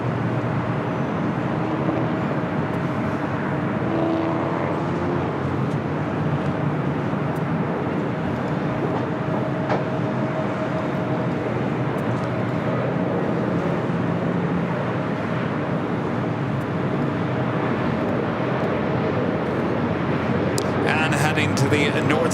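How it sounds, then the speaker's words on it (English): A FedEx Boeing 767-300 freighter arrives at LAX on the south side from Memphis, heard as a continuous, fairly even jet rumble at moderate distance that rises slightly in the last seconds. "FedEx Flight 749 coming in from Memphis, 767-300 freighter up next for arrival on the south side"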